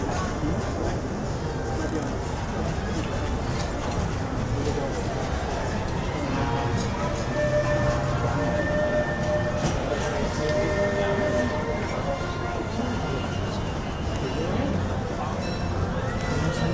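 Disneyland Railroad train ride aboard the caboose, with a steady rumble of rolling cars and crowd murmur throughout, and faint tonal squeals or whistles mixed in.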